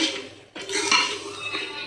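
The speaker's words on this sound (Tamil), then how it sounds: "இப்போ எல்லாம் சேர்ந்து நல்லா கிளறிட்டே இருங்கோ." A spoon scrapes and knocks around a pan while Ashoka halwa is stirred, giving a few clattering metallic strokes and soft scrapes close by, with a brief pause early on.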